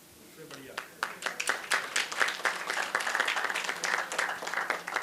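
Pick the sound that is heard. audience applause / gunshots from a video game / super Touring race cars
audience applause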